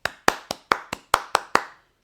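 Eight sharp hand claps ring out at a steady, brisk pace, close and clear, each with a short decay, then silence.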